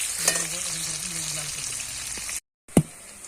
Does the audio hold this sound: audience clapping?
no